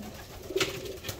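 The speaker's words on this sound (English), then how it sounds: "You can see this cockbird down here, he's already sitting in the corner calling a hen" A cock pigeon sitting in a nest-box corner gives a brief, soft coo while calling a hen, one short murmuring note close by in a quiet loft.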